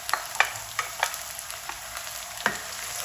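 Onion masala with yogurt frying in a karahi for a restaurant-style vegetable dish, with a continuous soft sizzle and several sharp spoon clinks and stirring taps against the pan.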